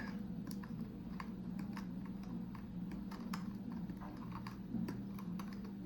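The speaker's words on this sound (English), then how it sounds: "just gonna trim off all the excess leg" Small cutters snip excess LED legs on a clock kit, a series of sharp, quiet clicks at an uneven pace over faint background hum.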